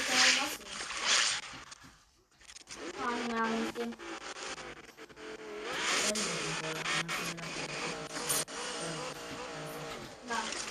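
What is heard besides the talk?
car engine in a video game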